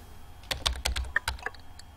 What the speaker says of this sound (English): press keys to type the message